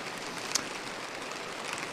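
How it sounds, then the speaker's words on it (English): Steady rain falls on a tent in a dense, even hiss, with faint patters layered through it. The sound is close and constant across the short stretch, and nobody talks. "you probably can't hear me because of the rain."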